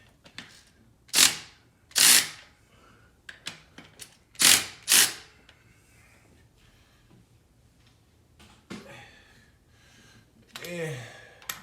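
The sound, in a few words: wrench loosening and torquing oil pan bolts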